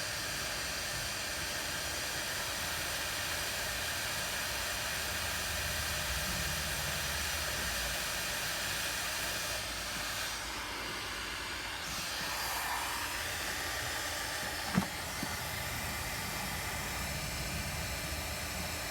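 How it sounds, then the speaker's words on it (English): Heat gun blowing on a rusted Ford Transit brake part, a steady broadband hiss held throughout at an even level, one brief clank near the end, with no talking. "I'm just going to use the heat gun again"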